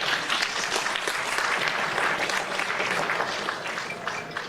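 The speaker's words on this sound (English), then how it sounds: "And I think that deserves a big clap." Hearty audience applause at an excellence awards ceremony in Australia, a full, steady wash of clapping that tapers slightly at the end.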